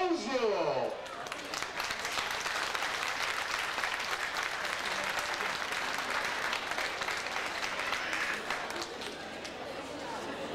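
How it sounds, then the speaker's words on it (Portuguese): A large crowd at the 2003 Pawtucket milk bodo festival applauds loudly and continuously, dense clapping sustained for several seconds after a brief opening swell. "Aplauso!"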